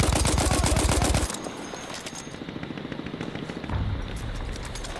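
Enemy bombardment in Battlefield 1 opens with a fast, loud burst of rapid gunfire, then gives way to a rumbling barrage of distant blasts and crackling impacts, with a heavier thump near the end.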